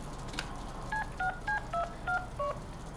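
A phone dials in the Deadpool video game: seven short touch-tone beeps in a quick, even sequence over a low background hum.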